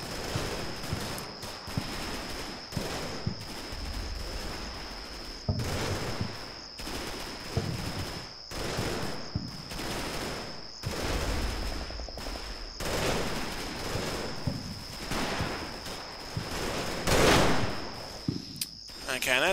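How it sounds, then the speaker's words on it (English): Heavy machine gun team firing in the WWII Normandy war game Combat Mission, with repeated bursts of gunfire in uneven rhythm over a constant high insect-like whine, moderately loud and with no voices. "my heavy machine gun team all set up, deployed, taking shots at them"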